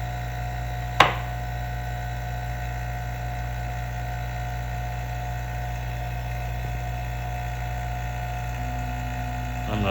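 A vacuum pump motor on a new degassing vacuum chamber kit runs with a steady, even hum, broken once near the start by a sharp single click.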